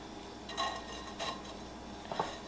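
A regular metal spoon scrapes and presses chunky maple sugar through a metal grease shield, giving three short gritty scraping strokes spaced apart over a faint steady background.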